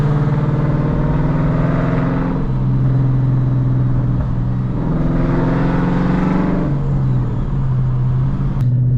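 A Ford Mustang S197 with upgraded suspension drives along with a steady, loud engine drone heard from inside, rising in two revving surges as it accelerates between shifts.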